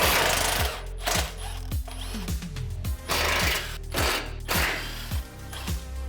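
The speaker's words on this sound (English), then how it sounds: "Take a 15mm socket to get the sway bars off." A ratcheting socket wrench with a 15mm socket clicks through repeated quick pulls while removing sway bar nuts on a 2010-2014 Ford F-150 Raptor, the metallic ratchet sounding close and rhythmic in short bursts.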